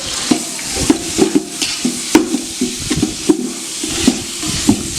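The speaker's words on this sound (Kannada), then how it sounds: "ಬೇಗ ಇದು ಕ್ಲೀನಾಗಿ ಮಿಕ್ಸ್ ಮಾಡೋಣ ಇದ್ರ ಜೊತೆ" A spoon stirs biryani ingredients with onion, mint and coriander in a pot, making repeated scraping and clinking strokes in a steady rhythm over a soft sizzle, close and fairly loud, with no talking.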